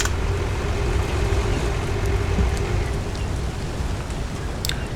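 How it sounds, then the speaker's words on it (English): Rain in the video game Ships at Sea forms a steady, dense hiss of rainfall with a low rumbling bed beneath it and a few scattered sharper drop sounds, with no talk over it. "Rain needs work on, I feel. Rainfall is a bit weird."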